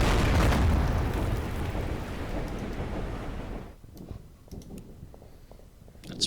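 Heavy naval guns fire from ships in a Pacific island battle video game, a deep rumbling explosion that fades out over a few seconds, followed by scattered softer pops and clicks.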